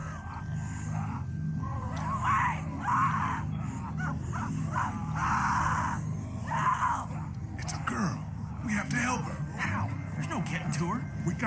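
A woman screams in The Walking Dead Season 1 Episode 3 game, with several harsh, strained cries among groans and rumbling, mixed under talking throughout.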